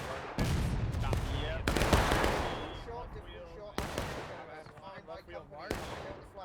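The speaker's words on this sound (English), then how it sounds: "Artillery at the hill." Artillery fire from the War of Rights video game rings out on Nicodemus Hill in a 300-player battle: several loud booming blasts, each with a rolling echoing tail, spaced irregularly amid distant gunfire and voices talking.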